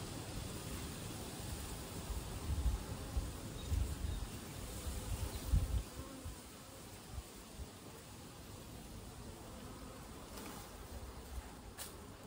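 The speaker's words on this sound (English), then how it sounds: "Colony is full of bees." Honey bees buzz steadily from a full colony during a hive check in British Columbia, a dense, continuous drone close by with no voices over it.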